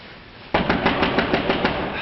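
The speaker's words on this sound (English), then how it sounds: "Hey, Mac, get up and open the door" Rapid knocking on a door in an old radio drama, a steady run of about ten firm raps heard close and fairly loud, with no voices over it.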